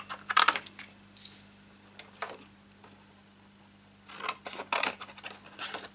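A pair of scissors snips through stamped card pieces in a papercraft session, giving a few sharp, crisp cuts and rustles in two clusters with a quiet gap between, close by over a faint hum.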